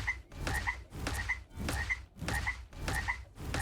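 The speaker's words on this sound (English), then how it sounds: "The main draw is the frog noise when you swing the hammer." Frog croaks from a summer costume's hammer swing in the video game Marvel Rivals, about six in a steady rhythm, each a loud throaty croak with brief gaps, alone with no talk.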